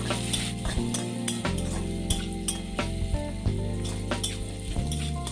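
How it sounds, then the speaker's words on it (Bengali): Potato pieces fry with turmeric in hot oil for a bitter gourd dish, giving a steady close sizzle broken by repeated sharp scrapes and clinks of stirring against the pan, with no talk. "এখন হলুদ দিয়ে আলুটাকে খুব ভালো করে ভেজে নিতে হবে"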